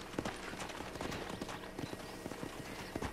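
Horse hooves clip-clop steadily in the Red Dead Redemption video game, a quiet, even trotting rhythm heard alone.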